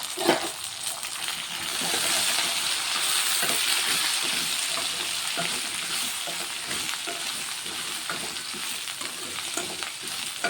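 Ridge gourd pieces frying in oil in a pan give a constant soft sizzle with occasional stirring clicks and light splatter, fairly quiet and steady, with no one talking.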